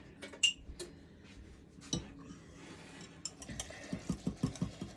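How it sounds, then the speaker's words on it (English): Buttermilk topping mixture whisked in a bowl, heard as quick metallic clinks and scrapes of the whisk against the bowl, irregular at first and then a steady run of rhythmic taps near the end. "we got to whisk that together"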